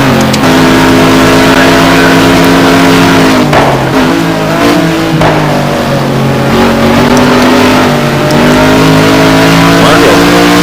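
A Maserati MC12 GT1 race car engine roars loud and close in a racing video game at Monza, holding a high drone with shifts and pitch swings over about ten seconds, with no voices over it.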